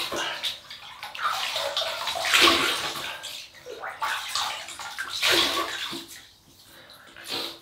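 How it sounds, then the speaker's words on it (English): Water splashes in a basin as hands repeatedly scoop and wet the face before a wet shave, two close surging bursts of sloshing and dripping with quieter gaps between. "So we'll wet the face and we'll get going."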